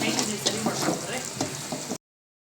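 Marinated meat with garam masala and spices fries and sizzles in a pan at close range, with steady crackling and a few stirring scrapes. Faint voices can be heard behind it before the sound cuts off abruptly.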